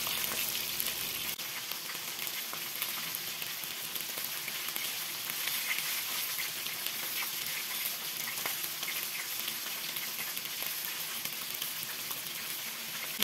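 A flour mixture sizzles in a hot pan while it is stirred, a steady close-up frying hiss with soft scraping textures running evenly for over ten seconds, no voices.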